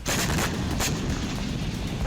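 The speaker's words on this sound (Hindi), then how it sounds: "जिसके बाद जबरदस्त धमाका हुआ।" An explosion from an Israeli air strike in southern Lebanon, heard as a loud sharp blast followed by a sustained rumbling roar with further bursts and no talk.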